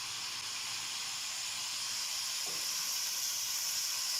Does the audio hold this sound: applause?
no